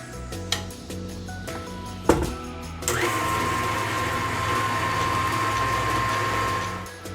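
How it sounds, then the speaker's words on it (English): Butter and sugar being whisked together in a bowl for almond cookie dough, a steady continuous mechanical whir with a high whine, starting after a few clicks and knocks and running on alone. "now I just want to whisk this until it's nice and fluffy"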